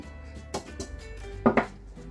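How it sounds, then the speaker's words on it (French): A knife chops garlic on a board for a peanut mafé sauce, a few sharp close knocks with short gaps, then a quick double chop. "je viens hacher l'ail"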